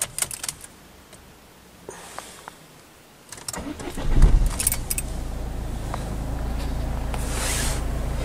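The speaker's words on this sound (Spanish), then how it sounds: "Vamos a volver a arrancar el coche." Keys jangle and click near the ignition of a Citroën car, then the engine cranks and starts with a brief loud surge before settling into a steady idle hum that continues to the end.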